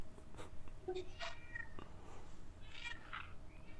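A house cat meows several times while being fed, short high cries close by, with faint talking in the background.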